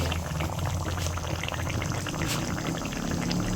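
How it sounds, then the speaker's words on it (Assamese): Fish curry with fried fish pieces bubbles in a pot, a steady close boiling burble with no voices. "এই মাছ ফ্ৰাই কৰা মাছকেইটা ধুনীয়াকৈ দি অলপ সময় ধুনীয়াকৈ উতলাই ল'ম"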